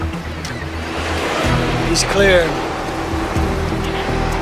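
Ocean waves wash in a steady, nearby roar of surf beneath someone speaking briefly, with a swelling surge in the middle.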